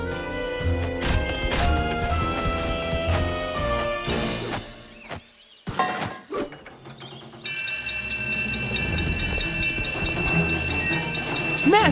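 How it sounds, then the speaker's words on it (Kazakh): A cartoon train approaches a level crossing: loud, busy clattering and crashing sounds fill the first seconds, then a brief quieter stretch, followed by a steady ringing signal that continues to the end. "Ол жабылады себебі пойыз келе жатыр"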